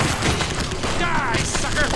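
Rapid gunfire in The Punisher video game, a dense burst of shots crackling over game noise and a voice for about two seconds.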